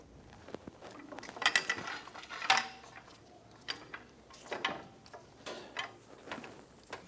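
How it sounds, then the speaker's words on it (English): Floor jack pumped under a 2007-2012 Nissan Versa control arm, a series of close, rhythmic metallic clicks and ratchets in quick uneven strokes. "We're going to use our jack underneath our control arm here to support the"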